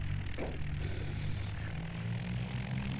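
Twin piston engines of a Beechcraft Baron 55 roar steadily at full throttle for takeoff in a flight simulator at Innsbruck, a loud, constant propeller drone with no talking.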